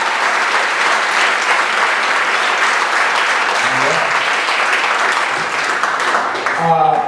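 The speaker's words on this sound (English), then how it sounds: "Keep those hands going for the founder and the executive director of Jazz Group, Mr. Hans Sr." Loud, sustained applause from a large crowd at a jazz event, steady throughout with a few faint tones creeping in near the end.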